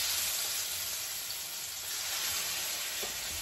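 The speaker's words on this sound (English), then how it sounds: "I'm going to sear these" Chicken searing in a very hot pan outdoors on a hot day, a loud, dense, unbroken sizzle that stays steady and close throughout, with no talking over it.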